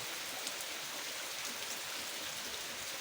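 Heavy rain pours down steadily, a dense, even hiss of drops striking surfaces close by, with no voices and no pauses throughout.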